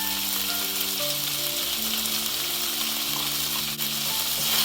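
Tofu stir-fry with vegetables, seasoned with salt, sautés in a pan, giving a dense, steady frying hiss throughout, with a faint tonal hum running underneath.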